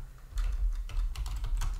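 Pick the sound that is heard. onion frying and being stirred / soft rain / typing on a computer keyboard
typing on a computer keyboard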